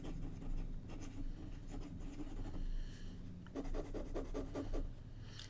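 A Sheaffer No Nonsense fountain pen loaded with a blue-black cartridge scratches across Rhodia paper in soft, close strokes, with short pauses between bursts of nib movement.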